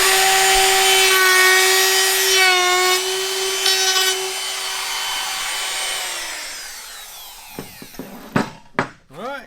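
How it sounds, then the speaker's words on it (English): A hand router rounds over the edges of wooden boards for a fishing rod rack, a loud steady high whine that winds down and stops, followed by a few scattered knocks and handling sounds. "I'm just going to route the edges and round everything off and then sand everything down."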